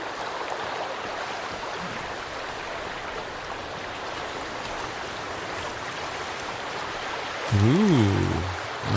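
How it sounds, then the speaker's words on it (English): Waterfall in the survival video game Sons of the Forest, a steady broadband rush of falling water heard continuously at moderate level, with a brief tonal game sound near the end. "Ooh, nice waterfall."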